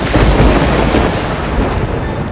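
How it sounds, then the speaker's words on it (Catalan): A dense, steady rumble of thunder roars loudly and continuously, broadband and heavy, with no voices. "Sonen trons i llamps."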